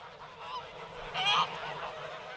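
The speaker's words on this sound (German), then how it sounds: "laut ist das Geschnatter auf dem Hof von Bauer Peters in Löhme." A flock of farm geese in Löhme, Brandenburg, honks and cackles loudly, with one sharp honk standing out mid-clip over a steady chorus of chatter.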